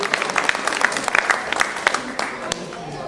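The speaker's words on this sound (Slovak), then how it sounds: "Poprosím veľký potlesk pre pani docentku, doktorku prírodných vied Katarínu Čižmárovú, kandidátku vied" Applause from an audience welcoming a docent to open a project, a steady patter of many hands clapping close by for about three seconds, with scattered louder claps standing out.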